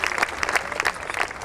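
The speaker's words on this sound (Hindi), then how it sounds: "एक बार जोरदार तालियां आदरणीय सुरेंद्र शर्मा जी के लिए बजाइए।" A crowd at a Hindi comedy poetry gathering, a hasya kavi sammelan, bursts into brisk, loud applause, dense clapping throughout the short burst with no talking.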